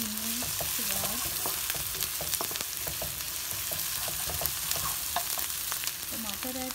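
Mixed vegetables sizzle and crackle steadily in a pan, with frequent scraping stirs and clinks of a spatula against the metal, close and continuous, no voices.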